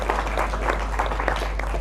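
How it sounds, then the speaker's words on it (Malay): Applause from an audience at a santri farewell evening at Dayah An Nahla, steady dense clapping filling the short stretch with no voices over it. "Berikan tepuk tangan."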